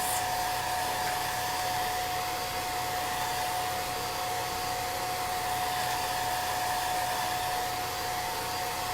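A handheld heat dryer blows over chalk paste on a stencilled craft surface, giving a loud, steady, unbroken whoosh with a faint whine that runs the whole time with no talking.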